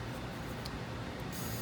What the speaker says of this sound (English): I kind of liberally spray this, try not to get it into the firing pin area